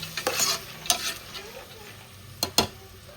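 Fresh pigeon peas frying in oil in a pan, stirred with a spoon that scrapes and taps a few times over a soft, steady sizzle, close and moderately quiet with no voices.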